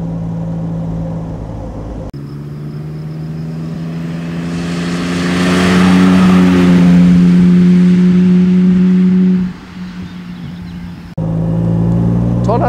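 A 1955 Jaguar XK140 DHC engine revs up close and loud, a deep droning note climbing and holding high before dropping back to a throbbing idle.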